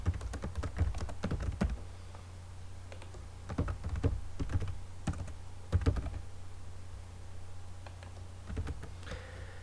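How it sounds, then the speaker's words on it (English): Someone types on a computer keyboard in irregular bursts of close, crisp key clicks, with short pauses between words over a faint steady hum. "We could type in a name. And an address."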